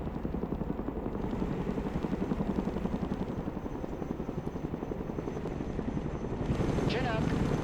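A Chinook heavy transport helicopter in the real-time strategy game Broken Arrow gives a steady, loud, rapid rotor thumping that runs the whole way, with a brief rising whine near the end.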